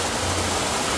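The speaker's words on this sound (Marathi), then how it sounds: "हा धबधबा" A waterfall on the Sinhgad trail roars as a steady, dense rush of water, close and continuous for about a second, with a low rumble underneath and no voices.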